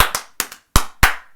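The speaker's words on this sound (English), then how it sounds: "Clap for yourself." A single person clapping their hands in an uneven rhythm, about six sharp, close, loud claps, some in quick pairs, with short silences between them and no other sound.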